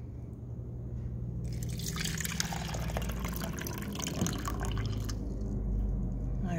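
Water is poured over grass-covered soil, splashing and trickling through the plants, with dripping and running liquid building for several seconds at close range before easing off.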